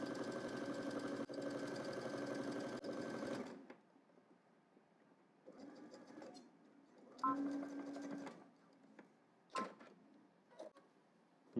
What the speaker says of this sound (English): So then we're going to head to the machine. We're going to stitch both sides down here using 5/8 of an inch seam allowance.